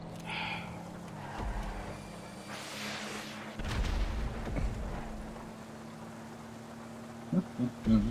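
Missiles launch from a jet in GTA V Online: a couple of loud whooshing, booming bursts rise over a low engine drone, followed near the end by a few short thumps.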